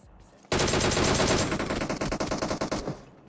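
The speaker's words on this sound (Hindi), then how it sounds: "थोड़ी गोली चलाओ, उसके बाद रुक जाओ, उसके बाद दोबारा से गोली चलाना चालू करो" Machine gun fire in the game PUBG Mobile rattles in rapid bursts, first a long continuous stream, then shorter choppy bursts with brief pauses between them.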